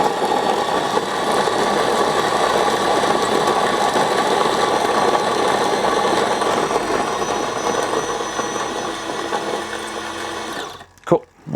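A Capresso Infinity Plus burr coffee grinder set to coarse grinds beans with a loud, steady mechanical whir that runs for about ten seconds, then winds down and cuts off with a few clunks.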